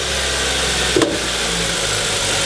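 A 2012 Honda Civic with a 1.8 liter engine idles steadily right after starting, a continuous even hum with one brief click partway through and no one speaking.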